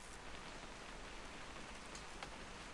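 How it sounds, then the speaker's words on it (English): Steady rain falls outdoors, a soft, continuous hiss of drops on surfaces at low level, with a few slightly sharper patters and no voices. "It's gonna rain the whole weekend"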